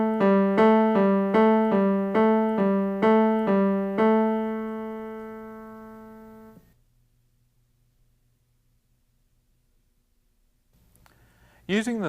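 Beginner keyboard exercise played with the left hand: two alternating notes, thumb on G below middle C and third finger crossing to A, repeated evenly about eight times, then a long held note that decays into quiet before a brief noise at the end.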